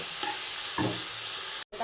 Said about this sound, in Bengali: এই যে তেলটা দিয়ে দিচ্ছি এখন। দিয়ে এবার একটু ভাজা ভাজা করে নিয়ে তারপর মশলাগুলো পরে দেবো।